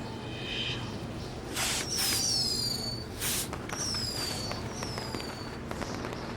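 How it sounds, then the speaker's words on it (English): Fireworks go off outdoors: several whistling rockets shriek upward one after another over a steady crackling, popping background, fairly loud and close. "we'll get to see some cool fireworks"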